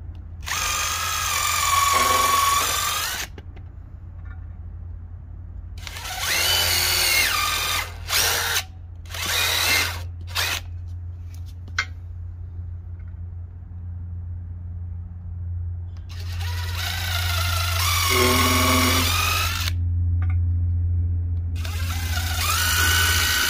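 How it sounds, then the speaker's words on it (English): A power drill pre-drills holes in wood for a pergola bracket, several loud whirring bursts of a few seconds each separated by pauses, over a steady low hum. "I'm going to pre-drill some holes in there so that I don't split the wood whenever I'm putting in screws"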